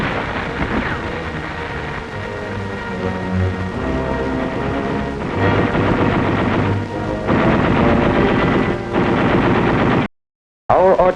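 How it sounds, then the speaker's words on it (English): Heavy artillery and rapid machine-gun fire from the Battle of Okinawa in a World War II newsreel: dense, continuous bursts and deep booms. It is loud and relentless, cut by a brief silence before a final burst. "Artillery delivers heavy fire on the central strong point of the enemy's defense line"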